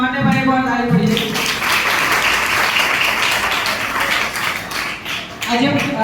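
An audience claps together at a school World Environment Day celebration, a dense burst of applause in the middle, with someone speaking just before and after it.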